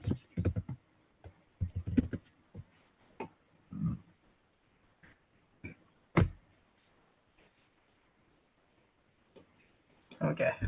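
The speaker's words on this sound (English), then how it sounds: "Now, if I just type" Computer keyboard keys clicked in short, scattered bursts of typing during a cybersecurity demonstration, close and fairly soft, with a person speaking between the keystrokes.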